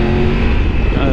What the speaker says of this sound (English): with the T-plane crank, it's got that lovely kind of parallel twin rorty sound to it